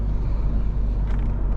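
Car cruising at steady speed on a highway after cleaning of its GDI engine, a continuous low rumble of engine and road noise with a faint airy hiss, heard from inside the cabin, loud and unbroken.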